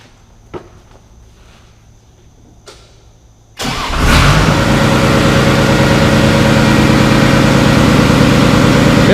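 Near silence with a few faint clicks and footsteps gives way to a Cat D3C LGP hystat dozer engine cranking and catching, then running loud and rough at a steady idle close by.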